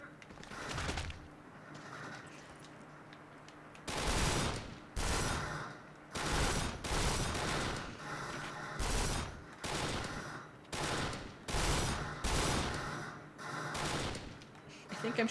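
Bursts of machine gun fire from the shooter game Kane & Lynch 2, several separate volleys of rapid loud shots spread across the clip with short pauses between them, mixed with game ambience.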